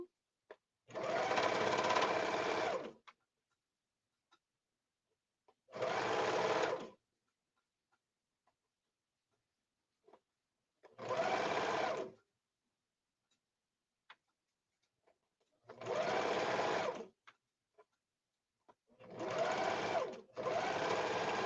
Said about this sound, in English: So now I have it all serged.